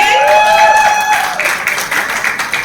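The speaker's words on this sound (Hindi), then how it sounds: "जोरदार तालियां हो जाए" Loud applause and cheering rise for a team captain at a cricket league launch party, a tonal voice or music briefly rising above it before the clapping carries on more unevenly.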